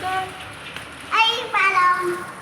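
Sudden rain with hailstones falling in Saudi Arabia, a steady hiss of drops and pellets hitting surfaces close by, with voices and someone speaking over it in brief bursts.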